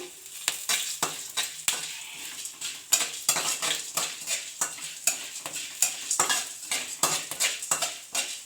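Rhythmic scraping and stirring of a utensil in a pan, repeated strokes over a soft dry sizzle as coriander seeds, cinnamon, cloves and pepper roast.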